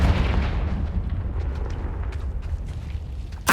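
A Confringo fire spell blast in Hogwarts Legacy: one deep, rumbling boom that fades slowly over several seconds, followed by a sharp new burst right at the end.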